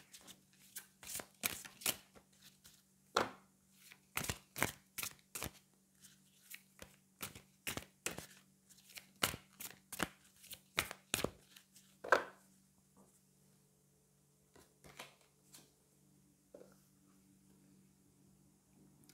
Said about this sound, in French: on va aller prendre une carte du chakra du cœur